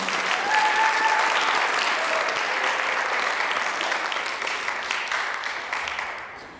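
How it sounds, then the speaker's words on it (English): An audience at the Miss Indian UNM pageant claps warmly in a sustained round of applause that gradually thins and fades toward the end. "One more round of applause, ladies and gentlemen."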